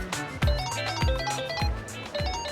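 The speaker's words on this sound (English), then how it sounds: "is that your phone?" A phone rings inside the Yakuza 8 video game with a bright, repeating electronic ringtone. Four evenly spaced pulses sit close and clear over a faint game background, with no talking.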